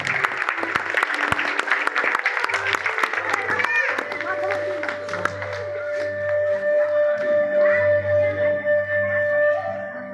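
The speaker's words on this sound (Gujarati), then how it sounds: "જોરદાર તાળીઓથી વધાવો." Loud crowd applause at a temple gathering with a voice speaking over it. The clapping thins out into a steadier, humming background with some tonal sounds.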